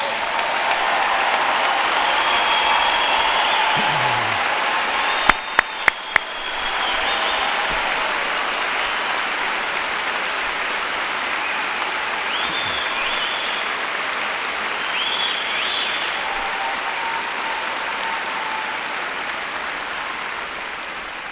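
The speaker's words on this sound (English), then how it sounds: "let's give them a great round of applause" A large commencement crowd applauds veterans in a long, steady, dense round of clapping that fills the space, with a few brief sharp knocks partway through.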